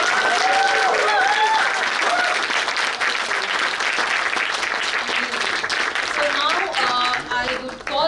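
A crowd at a TiEC branding masterclass claps loudly and steadily after the session, with voices and cheers mixed through the applause toward the end.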